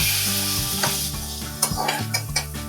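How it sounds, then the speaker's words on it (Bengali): Fenugreek seeds, asafoetida and onion fry in mustard oil in a pan, with a steady sizzle and bursts of stirring clatter. Sustained tonal music plays over the whole stretch. "কড়াই কিছুটা সর্ষের তেল দিয়ে তাতে দিয়ে দেবো মেথি দানা আর দিয়ে দেবো একটু হিং আর পেঁয়াজ দিয়ে বেশ ভালো করে ভাজা করে নেব"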